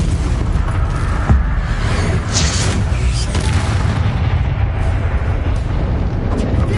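A Bombarda spell blast in Hogwarts Legacy, a loud rumbling boom rolling into dense continuous crackle and debris noise that stays heavy throughout, with a sharp burst near the start.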